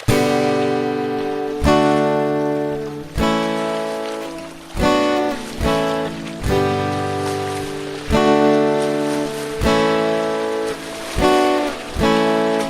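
Gentle strummed acoustic guitar chords from a song, each chord struck once and left to ring, roughly every one and a half seconds, clear and close with no voices.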